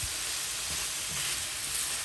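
Chili powder sautés in hot coconut oil as a shrimp fry cooks, giving a dense, steady sizzle and hiss that runs loud and unbroken throughout.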